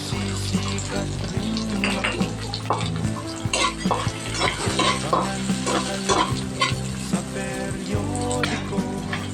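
Garlic and onion fry in a pan with a loud, close, crackling sizzle, with repeated utensil scrapes and clinks against the pan throughout and no voices.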